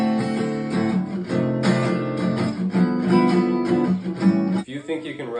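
A band or keyboard plays a chord progression voiced with dominant sevenths, sustained full chords changing every second or so, loud and continuous, with a brief thinner passage near the end.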